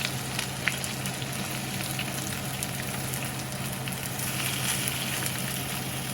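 Two onions sizzling and frying together with potatoes in a pan for Russian-style fried potatoes, a steady close hiss and crackle of hot oil throughout, with no talking.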